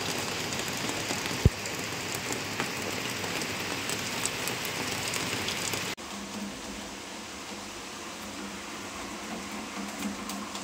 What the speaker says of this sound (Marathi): खूप मस्त पाऊस पडतोय